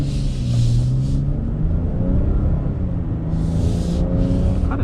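A 2022 Nissan Frontier midsize pickup truck's engine on a test drive, a loud, steady low rumble heard from inside the cab, with its pitch shifting slightly as it runs.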